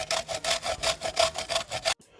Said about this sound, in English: So we're grating about half of the koko